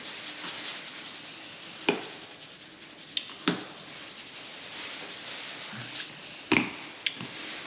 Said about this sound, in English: I'm gonna season it, stir it around, let the salt dissolve